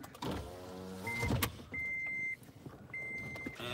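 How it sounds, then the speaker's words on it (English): Car power windows whir upward in several short motor runs inside a parked car, a steady electric hum stopping and starting with brief pauses, close and clear. "let's put our windows up"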